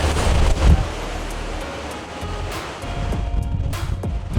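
Ocean water near the North Pole, heard from on board a polar cruise ship, makes a steady, loud wash of surf and rushing water mixed with wind buffeting, with a heavier surge early on.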